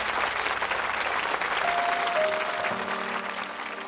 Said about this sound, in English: A very big round of applause for Callum and Sebastian.